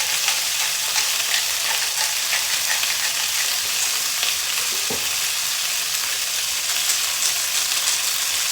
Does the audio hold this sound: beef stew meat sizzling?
yes